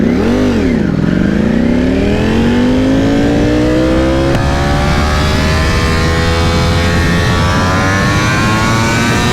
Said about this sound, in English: I would just rev the engine all day